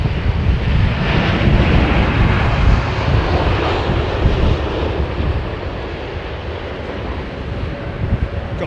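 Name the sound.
Boeing 777 airliner flying at London Heathrow Airport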